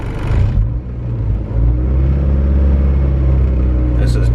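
A Honda Civic fitted with a Type R engine swap cruises on a dyno, its engine giving a steady, loud low rumble and mid-range drone that stays constant with a brief dip, and no speech over it.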